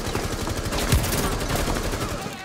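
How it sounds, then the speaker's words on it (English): Rapid gunfire in Rainbow Six Siege, dense bursts of automatic shots crackling close and loud across the whole moment, with no voice over them. "You're getting shot at."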